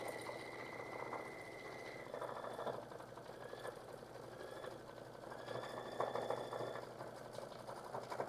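A sewing machine stitching out an embroidery design, a quiet steady mechanical whir with rapid needle clatter and occasional pitch shifts as it works, no voices.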